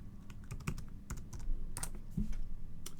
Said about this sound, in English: It wants my password, so enter your password.